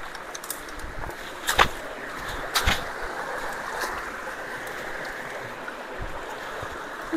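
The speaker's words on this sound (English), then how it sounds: "Get some water going in here." Steady rushing, gurgling water flows continuously through a culvert clogged by beavers, with a couple of louder splashing surges partway through and no talking.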